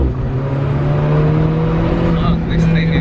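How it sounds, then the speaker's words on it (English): Deep, steady engine rumble from a 240-horsepower 2018 Alfa Romeo 4C idling close by in a tunnel, with a person's voice briefly audible over it. "we can hear the big sound of this monster car"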